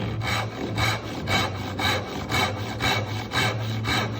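A coping saw cuts out the wood between dovetail pins in steady back-and-forth strokes, about eight rhythmic rasping passes, close and loud with no talk.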